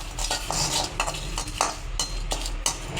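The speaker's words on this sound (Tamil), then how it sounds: "பிரியாணி இலையை நம்ம நல்லா வறுத்து எடுத்துடலாம்" Bay leaves roasting in a pan for Mandi masala powder, stirred with a utensil that scrapes and clinks repeatedly at a steady pace over a faint sizzle, close and fairly loud with no voices.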